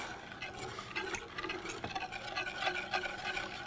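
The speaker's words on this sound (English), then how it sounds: "You start whisking it together and the chocolate is all melted, the cream is warm" A whisk stirring melted dark chocolate into warm cream for ganache, with quiet, irregular scraping and clicking against the bowl, close and faint.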